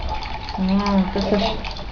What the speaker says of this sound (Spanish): Estoy sacando agua para ponerla a esto.